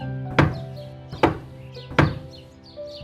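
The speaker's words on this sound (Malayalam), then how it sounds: "അവരുടെ വാതിലിൽ ഒരു മുട്ടൽ കേട്ടു" Three evenly spaced heavy knocks land on a wooden door on a rainy night, each a solid thud with a brief resonant tail, heard alone without voices.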